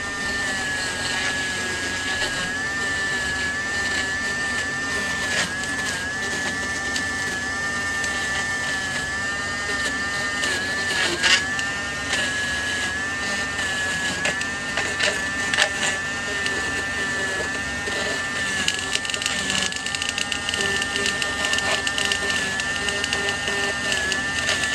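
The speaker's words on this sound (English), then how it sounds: "Dremel, which speeds things up a little bit." A Dremel rotary tool cleaning a 78 rpm record makes a steady high-pitched motor whine with a continuous buzzing hum that wavers slightly, moderately loud throughout with no talking.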